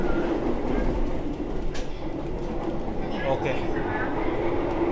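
The KA Argo Lawu executive train runs along the tracks at speed, a steady rumbling roar with faint rhythmic wheel clatter heard from inside the carriage, while someone speaks briefly over it.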